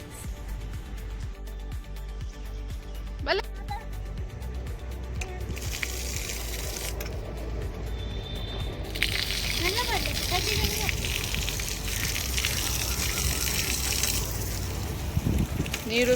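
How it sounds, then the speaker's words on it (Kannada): Water running and splashing at an old temple, a continuous broadband wash that grows louder midway, with a voice and other activity around it. "ನೀರು ವೇಸ್ಟ್ ಮಾಡಬೇಡಿ."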